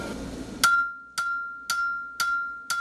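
A blacksmith hand-hammers steel for a kitchen knife in a small traditional forge, each blow a bright ringing clang with a sustained metallic tone, four evenly spaced strikes following a noisy start, close and loud.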